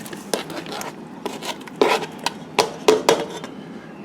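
Cut-up, mostly de-seeded tomatoes tipped into a pan for tomato basil soup, a series of soft wet thuds and clatters against the pan, close and moderately loud with brief pauses between drops.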